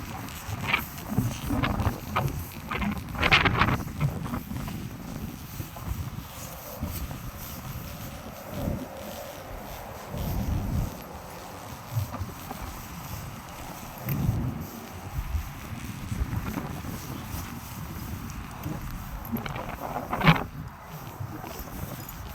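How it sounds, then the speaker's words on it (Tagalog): Wind blows outdoors in uneven gusts, rumbling against the microphone, louder at the start and then steady, with no voices. "Hangin oh."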